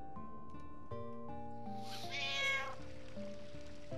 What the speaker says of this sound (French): Encore le chat.